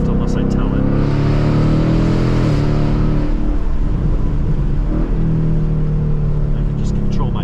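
A 2022 Mustang GT is held in manual mode on a winding mountain road. Its engine drones loud and steady, rising and dipping in pitch as revs change, with a brief lull midway.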